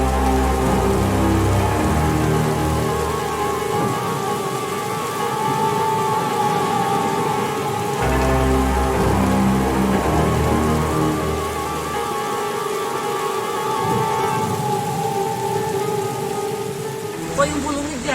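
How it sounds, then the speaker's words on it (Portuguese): Heavy, intense rain pours down steadily during the Rio Grande do Sul floods, a dense continuous hiss of drops on surfaces lasting the whole stretch, with a faint voice murmuring underneath at moments. "começou uma chuva intensa e não parou mais"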